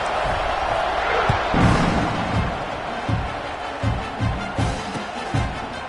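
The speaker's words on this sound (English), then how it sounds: "this crowd is buzzing after that last score" Football stadium crowd buzzing after a touchdown, a dense, steady roar of many voices with intermittent low thumps and swells, moderately loud throughout with no single voice distinct.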